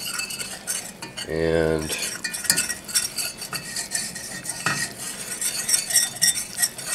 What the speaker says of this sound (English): Okay, so just gonna whisk it all through.